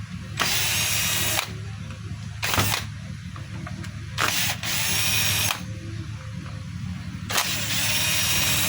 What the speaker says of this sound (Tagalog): Tapos ito washer, tapos kailangan yung kalasin itong screw.